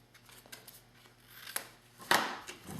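Paper being cut with scissors for a snowflake craft punch project, a few quick snips building to a louder close cut near the end, with no talking.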